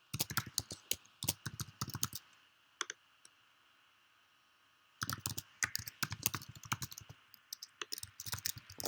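Quick bursts of computer keyboard typing as data is entered, clustered clicking keystrokes close by, a pause of about three seconds in the middle, then typing resumes.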